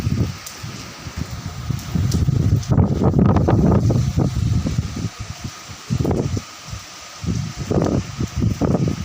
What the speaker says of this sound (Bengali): তিনতলার উপরে রয়েছি, এত জোরে হাওয়া দিচ্ছে।